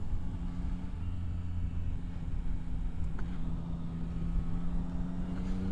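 Motorcycle ridden onto a highway, a steady low engine drone with wind rumble throughout, fairly loud and continuous with no talk.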